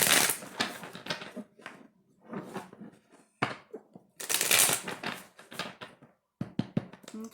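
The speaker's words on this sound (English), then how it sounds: "Let's do 2 more shuffles." Tarot cards are shuffled in repeated bursts of crisp riffling and tapping, close and fairly quiet, separated by brief pauses.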